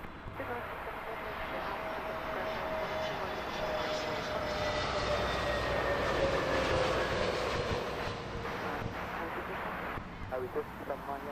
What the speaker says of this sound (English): Scandinavian 1507. This is inbound from Copenhagen, A320neo.